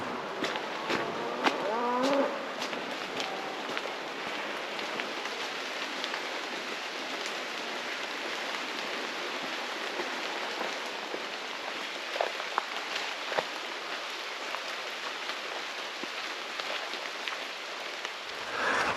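Steady rain falls through a wood, a dense even patter on leaves and the ground that continues for the whole stretch, with a few louder drips standing out nearby.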